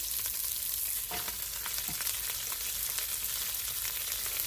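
Cabbage fries in a pan with a steady, close sizzle and crackle that runs unbroken from start to finish, with no voices over it.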